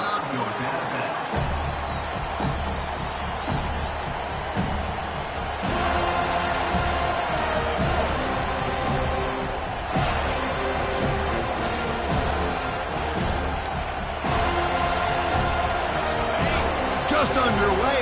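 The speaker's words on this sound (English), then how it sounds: "this home crowd is fired up and ready to make a difference today" Home crowd noise in the college football video game NCAA 25, a playoff game against Georgia: a dense, continuous stadium roar holds throughout under a commentator's voice.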